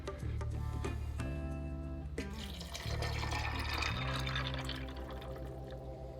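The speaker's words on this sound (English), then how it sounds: "We're gonna add our 2 cups of white vinegar." White vinegar pours from a cup into a container for a dog-food soaking test, a continuous liquid splash and fill with tonal ringing that shifts in pitch as the level rises, close and fairly loud.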